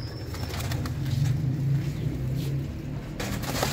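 Pigeons coo in a loft, low rolling calls blending into a steady murmur with a few soft wing rustles nearby.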